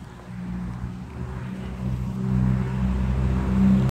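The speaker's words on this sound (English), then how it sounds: "Wait for these cars to go past and you won't be able to hear me." Cars passing on a nearby road, a broad low rumble swelling steadily over a few seconds and growing louder toward the end, with no voices.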